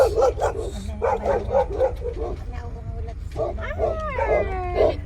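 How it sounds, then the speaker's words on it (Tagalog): Several big bulldogs bark and growl nearby in uneven bursts, with a whining yelp near the end and people talking faintly underneath, in Cavinti, Laguna. "Mga bulldog."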